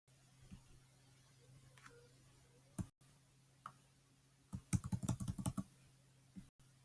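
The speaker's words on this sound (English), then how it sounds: "I'm just going to keep pressing the space bar because if I click on enter, it takes me out of the box" Computer keyboard typing in a Construct 3 game editor: a few scattered key taps, then a quick cluster of clicks and taps near the middle, close and crisp over a faint steady hum.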